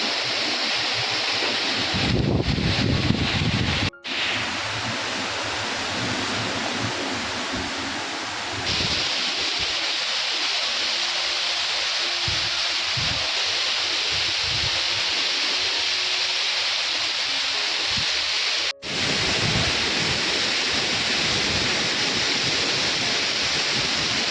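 Stormy rain and gusting wind sweep over open farmland, a loud unbroken roaring hiss with wind buffeting the microphone, broken by a couple of abrupt brief dropouts.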